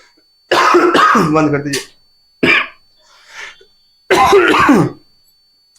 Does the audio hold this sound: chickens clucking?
no